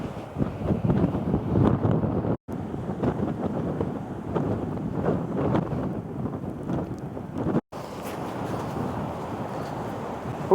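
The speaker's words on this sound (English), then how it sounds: "it's a very, very windy day now." Strong wind on a Scottish island coast roars and buffets a microphone continuously, a heavy rumbling gust that cuts out abruptly twice before returning.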